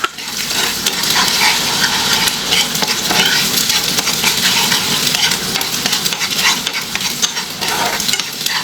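A spoon stirs breakfast food in a sizzling frying pan, scraping and clacking steadily and up close over continuous frying hiss, with no talking.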